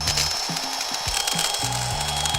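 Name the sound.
power drill drilling holes into a watermelon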